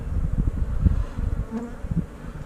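Honeybee drones buzz at an open nuc hive, a low droning hum that wavers and pulses close by, with a few louder passes of individual bees rising over the steady swarm noise.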